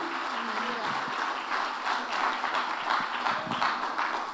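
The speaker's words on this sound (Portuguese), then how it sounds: "Aplauda o Senhor" Church congregation applauding during a family worship service, steady crowd clapping at moderate volume with scattered louder claps, continuous throughout with voices mixed in underneath.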